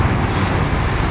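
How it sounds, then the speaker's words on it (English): Heavy wind rushes past the microphone while riding a 2019 Husqvarna 701 SuperMoto motorcycle, a loud, constant low buffeting roar that fills the brief moment without speech. "There's a lot of wind now."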